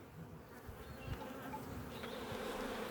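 A swarm of about 20,000 honey bees hums in a low, continuous drone that holds steady and swells slightly, heard up close with no voices.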